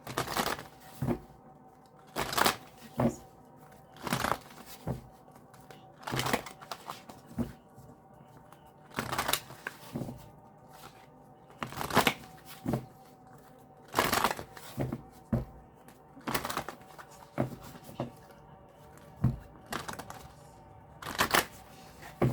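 Bursts of tarot cards being shuffled, riffled in quick rustling flurries that repeat every couple of seconds, close up with quiet gaps between.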